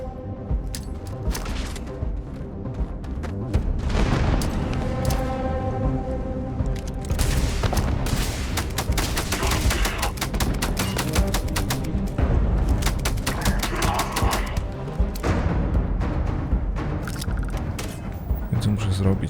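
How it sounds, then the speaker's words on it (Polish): Rapid bursts of gunfire from a sci-fi shooter game set in space, dense volleys and booming shots packed close together and loud throughout, with a voice talking over the fighting. "Nie widzę, do kogo strzelam."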